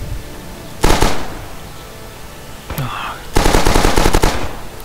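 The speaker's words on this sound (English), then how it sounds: "You would think a machine gun ripping through the forest would tag it all" Machine gun fire from the video game Rising Storm, ripping through a forest: a short loud burst, a lone sharp shot, then a longer sustained rattling burst of rapid close gunfire.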